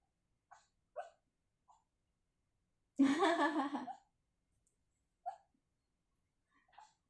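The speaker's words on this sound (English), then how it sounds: "Sorry guys, you might hear a little barking in the background." A dog barks in the background of a drawing session, with a few short faint yips scattered across the clip and one louder, longer bark in the middle, heard alone without talk.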